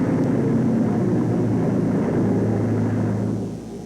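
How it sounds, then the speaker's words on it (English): Heavily laden B-24 bomber taking off near the Norfolk coast, a loud sustained rumbling engine drone with steady low tones, continuous for several seconds before fading slightly at the end. "with the heavily laden B-24s struggling to gain height at their assembly points over the Norfolk coast"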